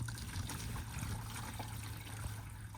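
Faint, steady trickle of leftover liquid draining through an RV black tank sewer hose, a continuous low watery flow with no talk over it.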